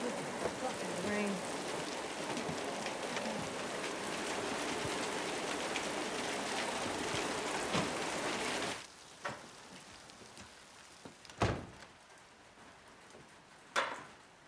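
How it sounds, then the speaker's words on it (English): Steady rain pours down for most of the stretch, a dense close hiss, then stops abruptly and leaves a quiet space broken by a few isolated bumps and knocks. "Fucking rain."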